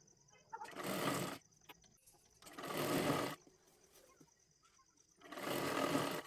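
A sewing machine stitches a full hem on a girl's lehenga made from a bordered saree, running in three steady bursts of about a second each with quiet pauses between.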